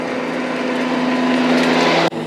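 A Kubota ZD1011 zero-turn mower with a 54-inch deck cuts grass on a sloped field near a pond, its engine a steady, loud, droning hum that cuts off abruptly at the end.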